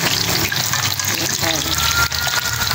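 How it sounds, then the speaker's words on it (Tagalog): Pork chop fries in hot, spattering oil, giving a continuous loud sizzle that runs without a break through the whole stretch. "ang ipiprito naman natin ay ang ating pork chop"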